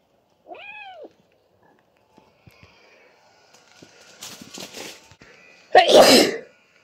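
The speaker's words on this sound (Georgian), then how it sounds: "აი მე ღმერთო როგორ მიყვარს დაცემინება" One loud, close human sneeze bursts out near the end, after a brief cat meow and some quiet rustling and shuffling.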